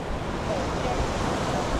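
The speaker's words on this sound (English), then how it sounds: "You can tell the ocean is definitely churned up" Churned-up ocean surf at Clearwater Beach, Florida, at sunset with storms approaching: a continuous roar of breaking waves mixed with wind buffeting the microphone, steady and fairly loud, with no voices.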